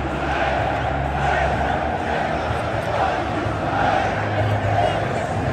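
Loud, dense roar of a packed football stadium crowd at the Madrid derby between Atlético and Real Madrid, a steady wall of chanting and shouting that swells continuously with nearby voices mixed in.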